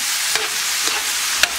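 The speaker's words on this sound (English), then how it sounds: "So now I'm just stirring it medium heat" Snake gourd stir fry being stirred in a pan over medium heat: a continuous close sizzle with three soft scraping stirs spaced through it, and no voices.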